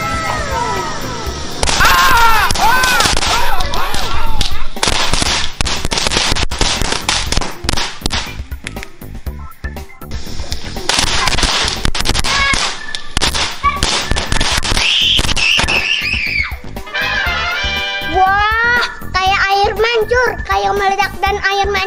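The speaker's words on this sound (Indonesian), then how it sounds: "sekarang kita bakar petasan silver gluten" A silver firecracker is lit and goes off in a long run of sharp, loud cracks and crackling bursts, with whistling fizzes near the end and kids' voices mixed in.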